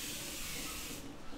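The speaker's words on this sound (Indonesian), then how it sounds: "Terus yang kedua aku mau pakai facial spray." Clinal facial spray hisses in a steady, close mist for about a second, then cuts off, leaving a faint room tone.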